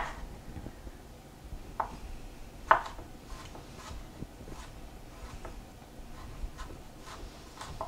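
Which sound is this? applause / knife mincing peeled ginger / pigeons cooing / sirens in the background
knife mincing peeled ginger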